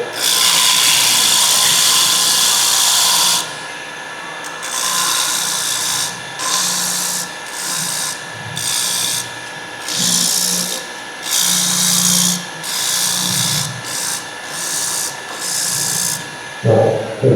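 A wooden workpiece being sanded with 120 grit sandpaper: a loud, close, steady rasping rub that starts long and unbroken, then comes in short regular strokes with brief gaps, with no talking.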